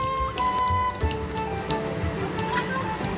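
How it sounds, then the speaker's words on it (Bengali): Cumin, dried chilli and a bay leaf sizzle in hot oil with a steady, close, crackling hiss like light rain, while soft tonal music plays underneath. "আমি ফোড়ন দেব তেলটা গরম হয়ে গেছে ফোড়নের জন্য নিয়েছি আমি এখানে জিরে শুকনো লঙ্কা একটা তেজপাতা"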